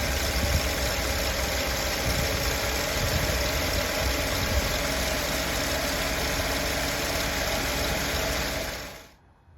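Steady idle of an old Mercedes-Benz engine from the 1970 to 1995 era, a constant close mechanical rumble with faint knocking texture, running alone before cutting off abruptly near the end.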